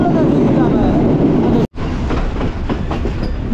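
A train rolls steadily through an elephant forest, a loud continuous rumble with wheel clatter and rhythmic clickety-clack close by, briefly cutting out midway before the roar resumes.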